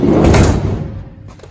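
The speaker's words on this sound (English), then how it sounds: "I just wanted to get it back on so I can see how the door's shut, and I will shut it now" The side door of a Mercedes Sprinter van under repair, with welding work and an adjusted inner panel, is shut, making a loud close slam and rattle that fades quickly, followed by a faint knock.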